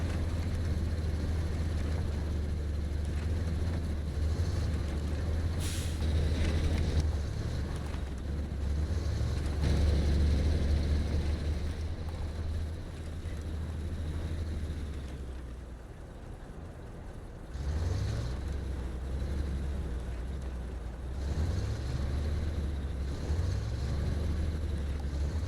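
A modded Pog's Z-Series truck in SnowRunner grinds uphill in low gear on skinny tires, its deep engine droning steadily and loudly throughout, with a few brief rev changes as it strains up the slope.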